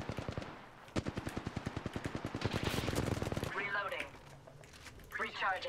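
Rapid automatic gunfire in an Apex Legends match, a loud sustained burst of close shots in quick rhythm lasting several seconds, then fading as game voice lines and speech-like chatter follow.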